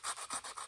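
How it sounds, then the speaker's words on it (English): Coarse sandpaper rubbed back and forth over a cigar box guitar pickup, four rhythmic rasping strokes close up with no talking. "I'm getting the real coarse sandpaper because I want it to look"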